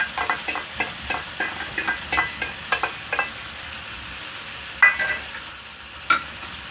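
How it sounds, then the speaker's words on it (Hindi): Ginger garlic paste and spices fry in a hot pan for a malai boti gravy, with a steady sizzle under a string of sharp, close scraping stirs that come quickly at first and then thin out to a few strokes. "अब इसमें डालेंगे अदरक लहसुन का पेस्ट, अपने मसाले,"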